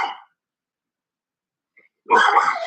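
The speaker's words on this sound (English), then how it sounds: "I hear your dog barking," A dog barks in a short burst at the start, then again more loudly near the end after a long silence, fairly close by.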